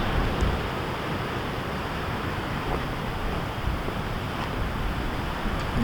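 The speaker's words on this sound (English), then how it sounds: "These waves are insane." Ocean surf rolls onto a beach in a broad, steady roar with wind noise, continuous and fairly loud, no voices present.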